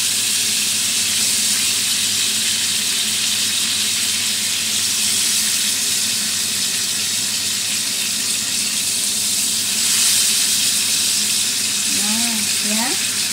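Bread toasting in a pan for a breakfast snack, a constant loud sizzling hiss throughout with a faint voice briefly near the end.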